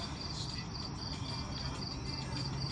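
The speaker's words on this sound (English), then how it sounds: "I seen some big ass fucking crickets this year." Steady, high-pitched cricket chirps pulse continuously over a low background hum, with no other sounds standing out.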